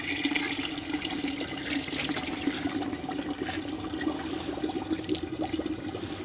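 Dirty water runs through a homemade water filter with a continuous, close-up trickling and splashing flow that stays steady throughout, with no voices.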